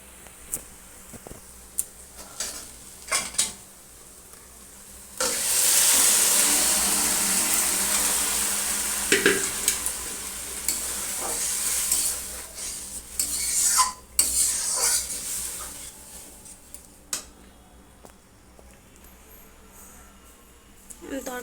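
Spoons clink and scrape against a pot. Then cooked dal is poured into a hot tarka tempering with a sudden loud hiss that sizzles on for several seconds, followed by more stirring and clattering in a home kitchen.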